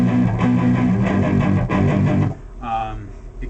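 An electric guitar plays the palm-muted parts of a song: chugging, distorted power-chord strums packed close together, then a short let-ring chord after a brief pause.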